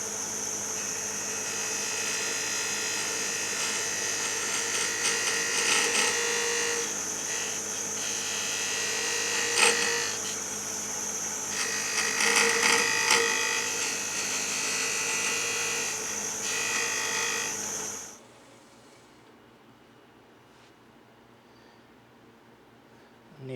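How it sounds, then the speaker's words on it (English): A bowl scraper on a lathe turns a wooden utility box, giving a steady close whirring hum and scraping with brief louder bursts, then stopping abruptly and leaving near silence at the end. "Then the rest of it I'll hit with a bowl scraper."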